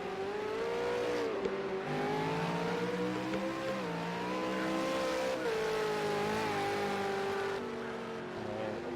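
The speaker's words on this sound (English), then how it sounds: "Looks like Gallen's probably stopped to do a burnout" V8 Supercar in a racing game, its engine held at a steady high rev with tyre noise during a burnout, continuous and loud for the full stretch.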